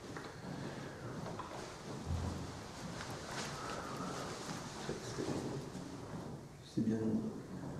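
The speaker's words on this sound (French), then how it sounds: "il pleut dehors" Steady rain hisses outside a mountain refuge on the Tour des Aiguilles Rouges in the Alps, beneath close talking, with a few soft knocks and shuffling sounds.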